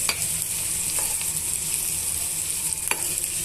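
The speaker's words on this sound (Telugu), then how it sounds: "ఇలా అన్నీ కూడా బాగా వేయించేసుకోవాలి" Carrot pieces and soaked green peas frying and being stirred in a pan, giving a steady close sizzle with a few scraping stir sounds and no voice.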